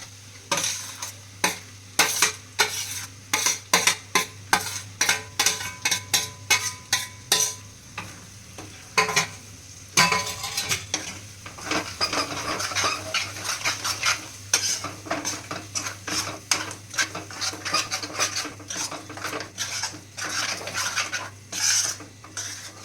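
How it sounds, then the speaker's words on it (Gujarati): Eggplant olo (roasted brinjal mash) added to a pan in a Kathiyawadi kitchen and stirred: a rapid, steady run of metal spoon scrapes and clinks against the pan over a soft sizzle, close up, with no talking. "હવે આપણે આમાં આ ઓળો એડ કરશું"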